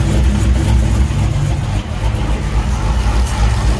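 A forged 392 HHP engine fitted with a Whipple supercharger runs at a steady, loud idle, its low lumpy rumble pulsing with an uneven cam chop throughout, with no voices over it.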